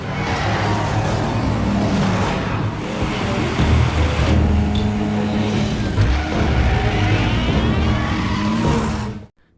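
An Akuma Z sports car, a modified Nissan Fairlady Z, accelerating hard in a Japanese street-racing film, a loud sustained engine roar that rises and swells over about nine seconds before cutting off abruptly.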